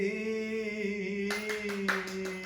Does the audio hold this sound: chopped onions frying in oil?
no